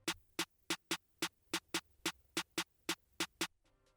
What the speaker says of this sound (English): For the bouncy bit, I use this kind of snare thing